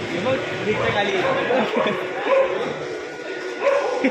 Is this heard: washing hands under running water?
no